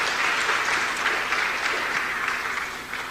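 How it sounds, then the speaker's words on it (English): An audience at a developer summit applauds with a dense, sustained clatter of many hands clapping, loud and steady, tapering slightly at the end. "Please give applause to Nicholas."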